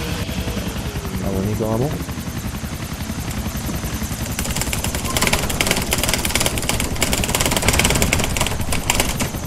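A helicopter in GTA IV, a loud, constant rapid rotor chop running the whole time, with someone talking over it.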